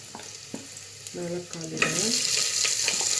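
Onions and legumes frying in a pan: a steady close sizzle with clinks and scrapes of stirring, growing louder and busier partway through as more goes in.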